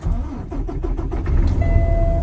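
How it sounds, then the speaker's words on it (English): A 2019 Peterbilt truck's engine cranking in rapid rhythmic pulses, then catching and settling into a loud, steady low rumble with a thin whine, close by and with no talk. "Start up the truck."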